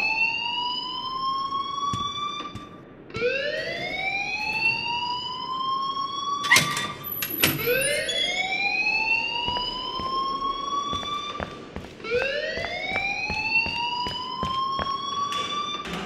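Electronic alarm in Life is Strange, a repeating rising whoop that sweeps upward in cycles of about three seconds, steady and moderately loud, with sharp clicks and knocks scattered through it.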